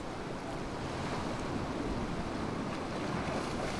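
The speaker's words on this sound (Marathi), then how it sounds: "आता मोठी लाट येणार, एक मोठी लाट येणार." Waves break on a small, secluded Konkan beach, a continuous close wash of surf and foam filling the scene at moderate level, with no voices.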